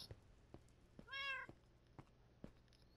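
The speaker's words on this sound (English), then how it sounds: "Okay, I say ominous and the cat meows." A cat lets out a single short meow partway through, faint and somewhat distant against a quiet room with scattered soft ticks and taps.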